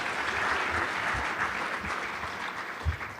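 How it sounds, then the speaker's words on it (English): Audience applause at a school district success celebration, moderately dense clapping for a few seconds. "Let's give everyone a round of applause again."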